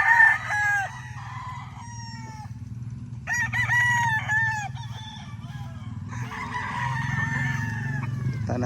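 Roosters crow repeatedly among chickens, several loud, drawn-out calls close by with short gaps between them over a low rumbling background.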